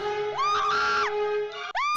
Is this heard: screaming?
yes